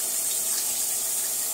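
Steady broadband hiss of tap water running as a reusable beauty sponge is rinsed under a faucet at a sink, continuous and fairly close with no talk.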